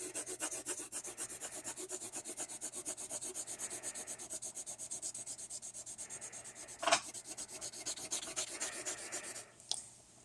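Steady back-and-forth rubbing of a pen or pencil shading a graph region on paper on a table, close and continuous, with a couple of sharper taps near the end.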